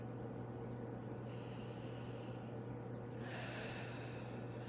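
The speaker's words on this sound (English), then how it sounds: "I breathe deeply." Two slow, deep breaths drawn in and let out, soft and close, each lasting over a second, over a steady low electrical hum.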